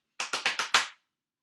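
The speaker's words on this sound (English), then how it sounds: "our 3rd body percussion sound there, which is our thigh slap" Five sharp thigh slaps of body percussion in a quick, even rhythm, close and alone, the last hit slightly heavier with a short decay.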